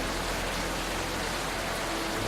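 Loud, dense rain from the Rainswept video game pours in a steady unbroken hiss, close and uniform with no voices.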